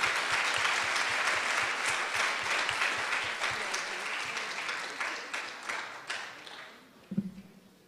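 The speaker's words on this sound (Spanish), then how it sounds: "Se merece un caluroso aplauso nuestra distinguida poeta" Audience applause for a poet at a book launch, dense, sustained clapping from a crowd that gradually thins out and fades away, ending with a brief thump.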